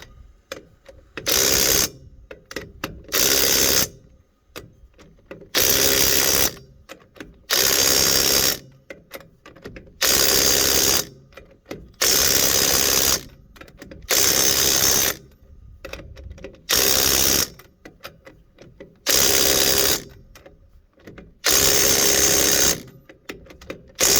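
A power tool buzzes in repeated short bursts, roughly a dozen, each about a second long with brief pauses between, loud and close, as it tightens trailer wheel lug nuts.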